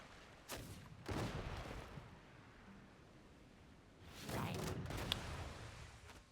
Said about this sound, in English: we have ships and cannons now.